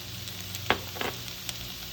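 Meat searing in an oiled pan for a keto Philly cheesesteak, a steady faint sizzle with a few soft stirring clicks and bumps, no talking.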